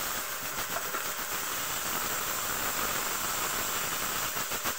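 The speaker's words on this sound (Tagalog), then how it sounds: "Hayaan natin kumukulo ito 2 bisis o mga 3 minutes." Water added to a seasoned dish hisses and sizzles steadily in a hot pan, a dense continuous fizz close up with no talk over it.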